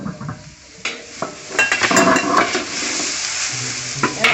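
Tomatoes cook in a pot with a light sizzle, punctuated by close clinks and scrapes of a utensil against the metal as they are stirred.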